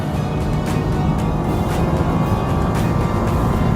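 A 2015 Nissan Juke R's engine pulls hard through a corner, with a steady, loud, dense roar and wind noise, unbroken and without talk.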